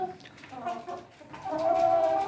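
Chickens clucking in a steady, close chatter, with a few louder calls rising toward the end, as newly arrived hens from a poultry farm settle in.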